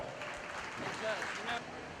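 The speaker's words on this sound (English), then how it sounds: "Let's give all those exhibitors a big round of applause." Audience at a 4-H and FFA market lamb show at a county fair claps briefly for the exhibitors, a soft, short patter of applause in a large show ring.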